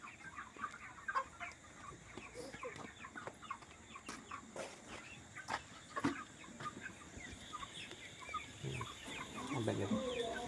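Chickens in a poultry shed cluck and murmur at a moderate distance, with scattered louder calls rising from a busy flock, and a voice briefly speaks over them.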